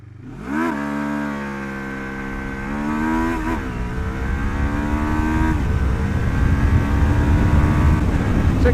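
A Lexmoto LXR380 motorcycle accelerates from a standstill toward 60 mph with clutchless shifts, its engine rising in pitch, dipping at each shift and climbing again, loud and close with rising wind noise and no talk.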